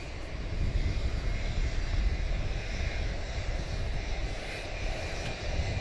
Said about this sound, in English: Cargo 747-8. It is going to Anchorage.